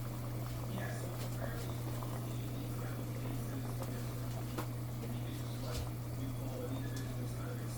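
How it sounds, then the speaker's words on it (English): A pot of water boils with a continuous bubbling, crackling hiss and a steady low hum underneath, recorded close up, while making sancocho with chicken and beef. "this has been boiling"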